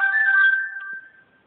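A phone's message notification chime plays a sustained, steady electronic tone that rings clearly at first, then fades and trails off alone over about a second and a half, with no talking.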